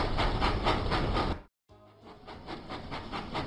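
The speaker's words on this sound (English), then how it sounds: "Thomas puffed proudly into Whiff's waste dump." Thomas the Tank Engine chugs along the track in a children's train video game, a steady loud rhythmic puffing and rail clatter that cuts out briefly before resuming.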